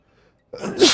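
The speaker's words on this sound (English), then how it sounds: "I feel another sneeze coming on." A single sneeze bursts out after a moment of near silence, a short close breathy blast with a sharp rising peak at the end.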